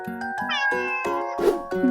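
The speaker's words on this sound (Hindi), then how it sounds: "सी से होती है कैट, यानी बिल्ली।" A cat meows in a rapid string of bright, tonal calls with a rising wail partway through, close and clear with no talk.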